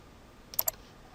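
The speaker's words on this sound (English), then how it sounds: "I'm just using left mouse clicks here," Two quick, soft left clicks on a computer mouse during SolidWorks CAD assembly work, close together and faint against quiet room noise.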